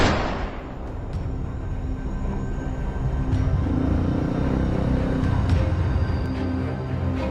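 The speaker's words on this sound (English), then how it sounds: "We climbed into the pickup and drove across another field" A pickup truck drives across a dry farm field, its engine a steady, close low rumble with rattling and bumping throughout, no voices.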